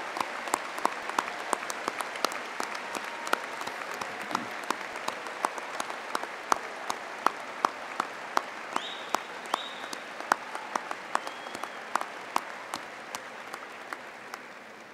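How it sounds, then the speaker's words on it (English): Graduation ceremony crowd at a Boston College commencement gives a long round of applause, sharp individual claps standing out over a steady, fairly distant wash of clapping that slowly tapers. "please stand and allow all of us to express our thanks with a round of applause."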